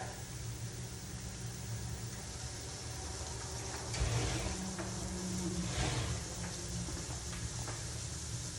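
A tortilla, poked with a couple of holes, fries in very hot grease, giving a steady, quiet hiss of sizzling oil with no talk over it.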